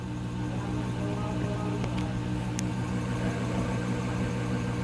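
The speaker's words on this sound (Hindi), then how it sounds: "जो पीछे आपको आवाज़ आ रही है गाड़ी की आवाज़ है" Vehicle running in the background behind a ceiling fan, a steady low engine rumble mixed with the fan's hum and a few faint clicks, continuous and fairly distant, no talk.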